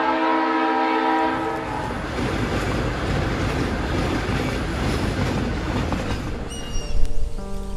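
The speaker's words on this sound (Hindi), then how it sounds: "देख ट्रेन आ रही है" A train approaches with loud horn blasts at the start and again near the end, over a steady, heavy rumble and clatter of rolling wheels that grows toward the close; no one speaks.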